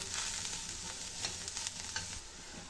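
Onions fry in a pan with turmeric as they are stirred for a chickpea sundal, a continuous close sizzle broken by repeated spoon scrapes against the pan, fairly quiet and without any talk.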